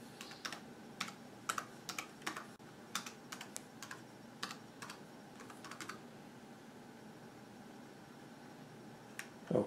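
Typing on a computer keyboard into a Windows search box comes through as a run of crisp, quiet key clicks in a quick irregular rhythm, close up, then stopping, with no talking.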